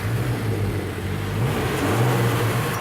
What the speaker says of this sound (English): If you maybe just turn it on one more time so we can actually just see the engine at work.